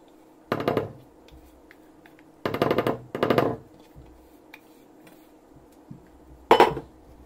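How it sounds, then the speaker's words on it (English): A spatula folding egg whites into soufflé pancake batter in a bowl, heard as a few separate bursts of scraping and knocking against the bowl, with quiet gaps between strokes. "Just keep folding it in from the sides"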